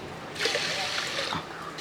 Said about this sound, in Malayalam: ഇനി നമുക്ക് കുറച്ച് വെള്ളം കൂടെ ഒഴിച്ചു കൊടുക്കാം